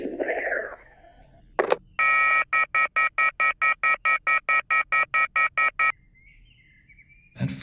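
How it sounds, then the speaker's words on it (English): A phone in the YIIK postmodern RPG rings in a long run of evenly spaced electronic trills, loud and alone, with brief game sounds before and after. "That phone call was surely one of the strangest I've ever received."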